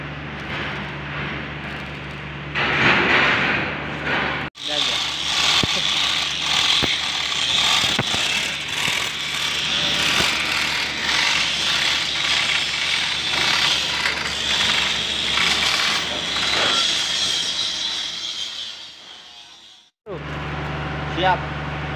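A manual chain hoist ratchets while pulling a welded industrial conveyor into place, giving steady metallic clicking and clanking up close, with people talking over it throughout.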